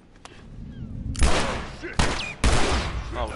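Gunshots in the video game The Last of Us Remastered, a few loud, sharp blasts in close succession with ringing decays, following a quieter stretch of ambient game sound.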